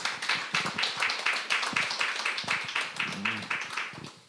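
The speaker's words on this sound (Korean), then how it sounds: "박수 주세요." Audience applause at a Korean church community worship service welcoming a guest speaker, steady dense clapping from a room of people with a few sharper individual claps, no talking over it.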